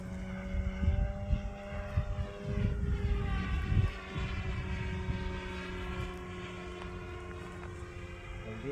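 A Skywing ARS-300 RC model airplane, 67-inch span, flies overhead with a steady propeller drone whose pitch rises and falls as it passes, moderately loud over light wind noise.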